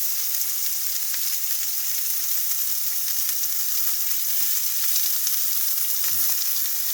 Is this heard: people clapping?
no